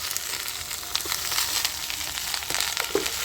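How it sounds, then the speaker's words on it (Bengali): Beans, eggplant, thin drumstick stalks and green tomato frying in a pan for a drumstick-flower curry, a steady close sizzle with scattered crackles and soft stirring scrapes throughout. "এবারে সবজিগুলো ভালো করে কষিয়ে নেব।"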